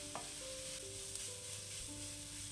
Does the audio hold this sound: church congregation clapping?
no